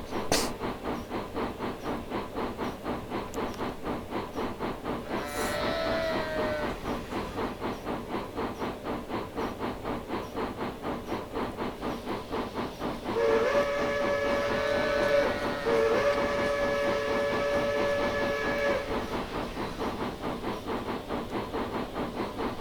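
An RGS 4-6-0 steam locomotive in Train Simulator Classic labours up a grade, its exhaust chuffing in a steady rhythm. The whistle cuts in twice, once briefly and then in longer blasts, loud over the working engine.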